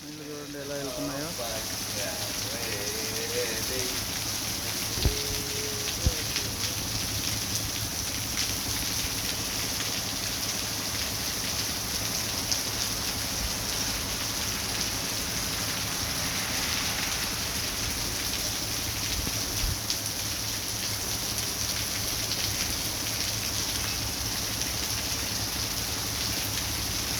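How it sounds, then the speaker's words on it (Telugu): Heavy rain pours down in Jahra, Kuwait, a dense, steady hiss of drops on surfaces with water running, continuous and unbroken for the whole stretch, with a faint low hum underneath. "చూడండి వర్షం ఏం పడుతుందో"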